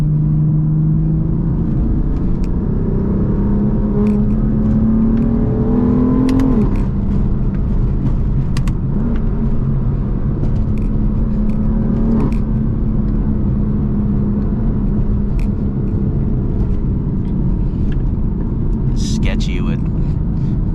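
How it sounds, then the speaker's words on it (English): A BMW M car with paddle shifters pulls away under semi-aggressive driving, its engine note rising in several climbing pulls with shifts between them, a loud steady rumble from inside the cabin under occasional talk. "I'm gonna do semi-aggressive driving."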